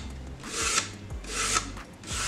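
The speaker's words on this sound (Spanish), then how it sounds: "ahora con una lija" 100-grit sandpaper rasps across wood in three rhythmic back-and-forth strokes, close and moderately loud.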